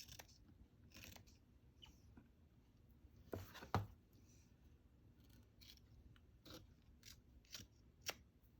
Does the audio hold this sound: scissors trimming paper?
yes